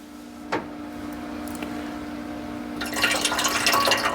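Pre-melted butter is poured into the ceramic nonstick pan of a bread maker already holding water, making a soft liquid splash that swells into a steady trickle near the end, with no talking.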